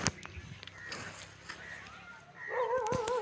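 A dog barks and whimpers in short bursts close by, with a brief burst of higher whining near the end.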